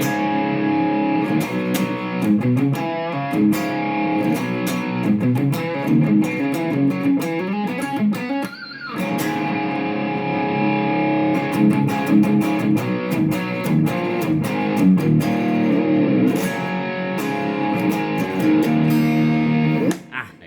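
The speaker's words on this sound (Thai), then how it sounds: "เซตอัพเสียงแตกนี้นะครับโดยใช้แอมอะไรนะครับ" A distorted electric guitar plays through a BOSS GT-1000 amp-modeling processor, its gritty, saturated chords ringing out continuously with brief pauses and choppy muted strums.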